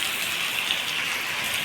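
Rain pours down steadily on nearby surfaces, a dense, even hiss of falling drops that stays close and constant throughout, with no voices.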